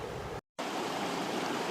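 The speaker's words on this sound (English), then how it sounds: "Gonna have to cross this raging river here in a minute" Rushing river water on a mountain trail near Mount Whitney, a steady broadband roar close by that fills the clip apart from a brief cut to silence early on.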